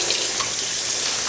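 Tap water runs steadily into a sink over a frozen tomato, a close, even hiss of splashing flow with no voices.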